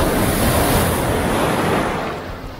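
Ocean waves at a beach in Barbados wash in with a loud, close rushing surge that fades slightly toward the end, with wind buffeting the microphone.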